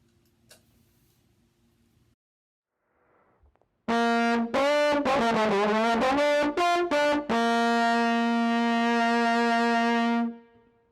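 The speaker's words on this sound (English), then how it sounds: "let's turn this thing on and get a little sample of what it sounds like" A trombone played through a TC Electronic Rusty Fuzz pedal with all knobs at 12 o'clock, heavily distorted, fuzzy and buzzing, playing a short run of notes then holding one long sustained note, loud and close after near silence.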